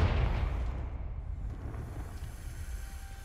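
In Hogwarts Legacy, a Confringo spell explodes with a heavy low boom at the start, then a rolling, rumbling tail that gradually dies away over a few seconds, with no voices.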